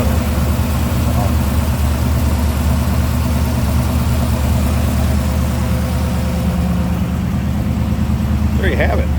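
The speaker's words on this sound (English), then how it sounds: "Engine sounds good. Again, smooth running." A 1957 Ford Ranchero pickup idles smoothly at a car show, its engine a steady, loud low rumble that runs throughout without change, with a brief faint voice near the end.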